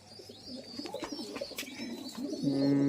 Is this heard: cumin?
no